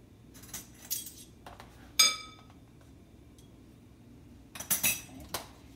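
Metal utensil clinking against a bowl while raw shrimp are tossed with kosher salt and seasoning, a few short bright scrapes and clinks in scattered bursts, near and fairly loud, with quiet gaps between.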